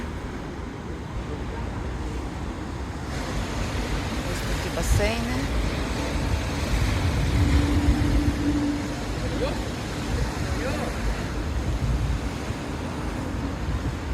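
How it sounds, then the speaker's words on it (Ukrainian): Steady roar of rough Atlantic surf and wind at Garachico, northern Tenerife, fills the background, with someone speaking over it and a brief low rumble midway. "дуже висока хвиля, бурхливий океан"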